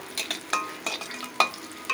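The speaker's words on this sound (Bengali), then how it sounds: "সয়াবিনগুলো দিয়ে ভেজে নেব একটু।" Soaked soya chunks frying in hot oil while being stirred, with intermittent scraping and sizzling bursts at a close, moderate level and no talk.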